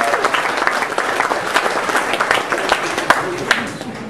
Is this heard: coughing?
no